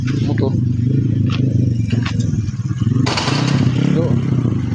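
A motorcycle on a roadside by a landslide in Balatan, Camarines Sur: a steady engine drone close by, under rough outdoor noise and a clattering rush partway through.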